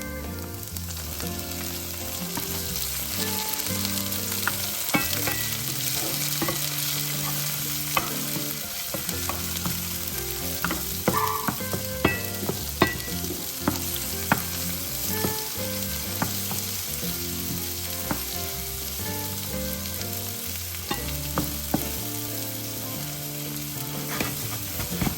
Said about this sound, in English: Let it fry a bit and then add the cherry tomatoes.